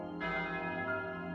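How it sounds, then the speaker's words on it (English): A church bell chimes outside a church, one resonant strike that rings on with a long, sustained humming decay, heard clearly and alone. "when the bell started chiming"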